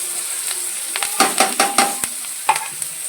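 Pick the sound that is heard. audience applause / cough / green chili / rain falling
green chili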